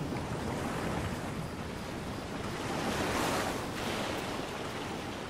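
Ocean surf washes onto a beach at high tide, a steady broad roar of breaking waves mixed with wind, swelling slightly in the middle, with no voices.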